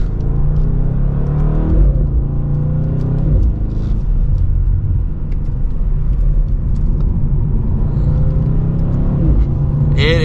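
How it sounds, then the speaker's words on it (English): A 2023 BMW M850i xDrive Coupe accelerates hard, its engine a loud, steady rumble close by with rising tones and brief gear-change dips across the pull. "And with another acceleration"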